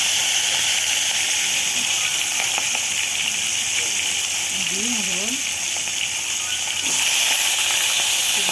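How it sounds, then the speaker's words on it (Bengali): Fish fries in hot oil with a loud, close, continuous sizzle and bright hiss throughout, while a faint voice briefly rises in the middle. "তেলটা গরম হলেই মাছ ছেড়ে দেবে। এই দেখো মাছ ভাজা ছেড়ে দিচ্ছি।"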